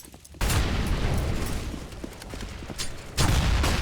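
A grenade detonates on the Cache map in Counter-Strike. A loud, close boom breaks in after a brief quiet and then rolls on as dense rumbling noise until a second, equally forceful blast hits near the end.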